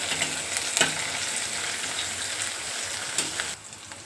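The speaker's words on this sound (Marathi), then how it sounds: "आता मिरची आणि लसूण छान परतला गेला" Green chili, garlic and coriander sizzle steadily in hot tempering oil, with a few stirring clicks, before the frying noise drops off near the end.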